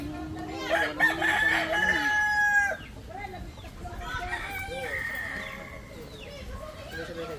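A rooster crows loudly nearby in one long drawn-out call, then hens cluck and people talk in the background.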